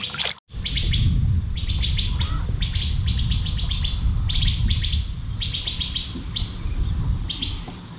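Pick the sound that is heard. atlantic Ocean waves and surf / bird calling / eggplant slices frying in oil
bird calling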